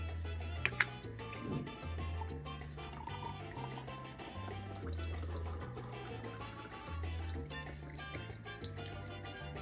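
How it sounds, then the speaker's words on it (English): Liquid is poured to measure eight ounces for homemade vanilla extract, a soft, continuous trickle and gurgle, faint and close, over a low, repeating melodic background tone. "We're going to pour 8 ounces."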